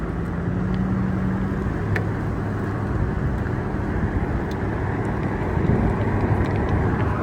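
A modified BMW 335i pulls under acceleration, a dense, loud drone of engine and road noise heard from inside the car that swells slightly toward the end.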